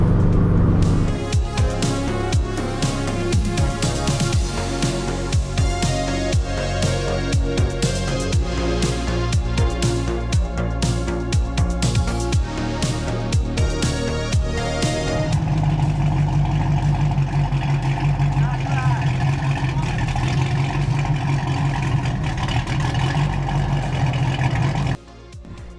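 Cars in a convoy drive on Missouri back roads toward the Ozarks, their engines droning and revving continuously at close range, with road and wind noise and the engine note shifting lower partway through.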